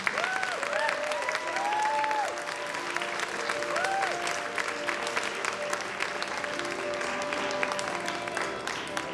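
Steady crowd clapping welcomes Junior Miss pageant contestants back on stage, dense and continuous, with a few whistles and whoops standing out over the applause.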